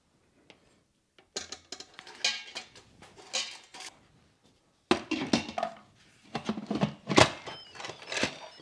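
Clattering metal clinks and scrapes as a metal bowl with a bowl lifter is set down into an Instant Pot, several bursts of knocking and rattling separated by brief pauses, close and fairly loud.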